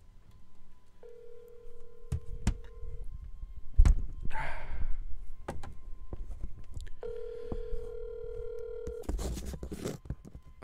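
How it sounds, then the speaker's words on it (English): Outgoing call ringing on a telephone line: two long ringback tones separated by a pause, steady and even, over faint background noise and a few scattered knocks. "I'd say 2 more rings and we get voicemail."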